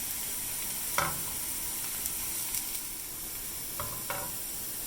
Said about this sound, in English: because they're essentially frying instead of